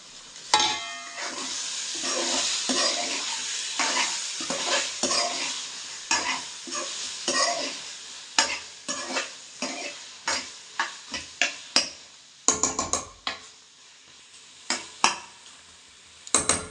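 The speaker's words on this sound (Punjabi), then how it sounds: "ਹੁਣ ਵਿੱਚ ਨੂੰ ਇੱਕ ਵਾਰੀ ਹਿਲਾ ਦਈਏ ਥੱਲੇ ਨਾ ਲੱਗ ਜਾਵੇ" Spoon stirring palak chicken in a pan over high flame, with steady sizzling frying underneath and repeated scraping clinks of metal against the pan that grow sharper and more spaced out toward the end.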